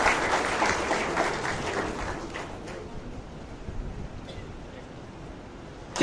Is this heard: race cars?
no